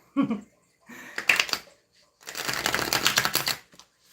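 A deck of tarot cards being shuffled close up: a short riffle, then a longer crisp burst of rapid flapping card noise, with a brief soft voice at the start.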